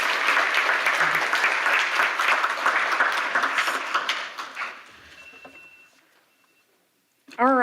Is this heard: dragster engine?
no